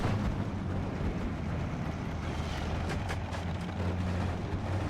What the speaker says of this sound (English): Mortar's going in.